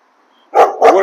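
Big dogs barking: after a near-silent start, two loud, close barks in quick succession.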